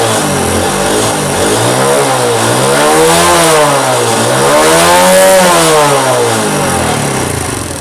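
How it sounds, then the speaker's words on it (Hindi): A Honda CD70 motorcycle engine revs hard and holds high, its pitch rising and falling in broad sweeps, loud and close with no voices. "देखें, बाइक रेस बिल्कुल ठीक ले रही है, पूरी ले रही है।"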